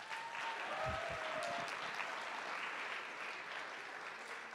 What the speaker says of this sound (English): So let's give a big round of applause for you guys.